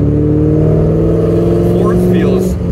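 A Corvette C5 Z06 with a suspected third-fourth shift fork transmission problem accelerates steadily in third gear, its engine drone loud and continuous from inside the cabin, rising slightly in pitch through the clip.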